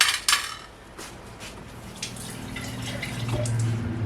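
Water is poured into an emptied can of cream of chicken to rinse it, with a couple of sharp metallic clinks followed by a steady close splashing and trickling that swells toward the end.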